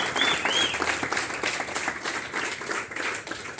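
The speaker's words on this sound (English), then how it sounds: "Just can we give everyone a round of applause" A poetry reading audience breaks into a hearty round of applause, with dense, close clapping, a few whoops and high-pitched cheers near the start, and the noise easing slightly toward the end.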